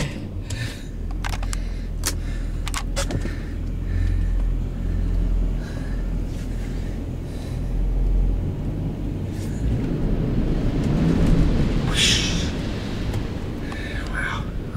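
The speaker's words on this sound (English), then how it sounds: "I get this car out of that water, that's shocking." A car idling and rolling out of a flooded underground parking garage in Indooroopilly, Brisbane, low engine rumble in an enclosed space with scattered clicks and a rising hiss of water near the end; voices murmur at times.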